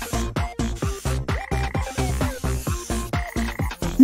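A frog croaks loudly and close up in a fast, regular series of short, throaty pulses. A few longer, higher notes break into the rhythm, and no one speaks.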